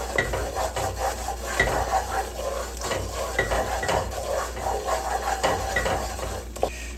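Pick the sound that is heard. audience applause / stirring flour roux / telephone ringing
stirring flour roux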